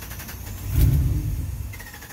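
A stranded Dodge Ram pickup with a failed fuel pump turns over, its starter cranking the engine in a low, rough churn that swells for about a second and then trails off without firing into a steady idle.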